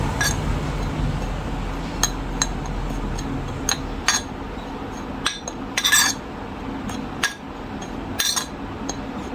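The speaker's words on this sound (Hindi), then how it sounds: "अब इन मसालों को इसमें शामिल करके अच्छी तरह मिक्स कर लेंगे।" A spoon stirs spices into dhaba-style achari chana dal, giving scattered sharp metallic clinks and taps against the pot at an uneven rhythm over a low steady background.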